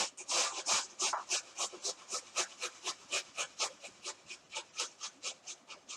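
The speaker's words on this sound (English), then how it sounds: "So I'm just going to go ahead and grate my garlic." Garlic rubbed over the fine side of a grater in a kitchen, a steady run of about two dozen quick rasping strokes, close and fairly quiet, with no talking.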